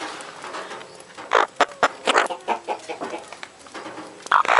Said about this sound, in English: Hey, frickin' chickens.